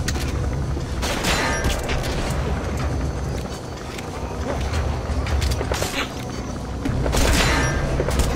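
Dense gunfire and booming explosions from the video game Metal Gear Solid 5, a loud continuous battle din with repeated bursts and heavy impacts throughout.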